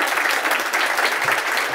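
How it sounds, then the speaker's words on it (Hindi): Studio audience applause on a talk show, loud and steady clapping throughout the short stretch. "ईदी साहब के लिए पहले ताली हो जाए"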